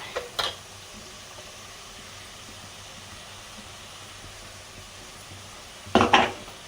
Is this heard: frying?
yes